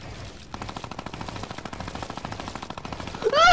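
Steady rapid automatic gunfire from a video game, a fast even rattle of shots at close range that ends in a louder burst.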